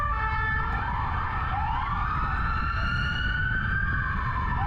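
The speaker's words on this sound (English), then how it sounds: "Pretty iconic American siren you can hear" A wailing American police siren from a converted U.S.-spec Ford Explorer (FPIU), rising and falling in loud sweeping cycles that sound close by, continuous with a steady rumble underneath and no talk.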